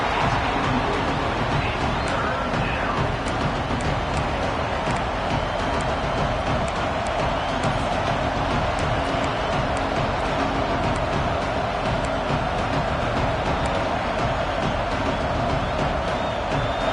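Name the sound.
football stadium crowd cheering on third down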